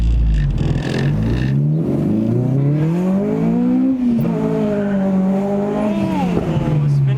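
An Acura RSX engine howls at full throttle during a power test, pitch climbing steadily through a gear, dropping at a shift, then rising hard again, loud and close throughout.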